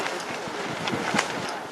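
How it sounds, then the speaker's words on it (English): Steady outdoor wind buffets the microphone in a continuous rushing roar, loud and close, with no voices. "Kind of windy, but it's nice and cool."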